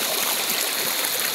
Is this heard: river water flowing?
yes